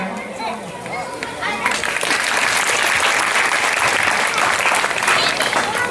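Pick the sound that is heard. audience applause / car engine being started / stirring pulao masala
audience applause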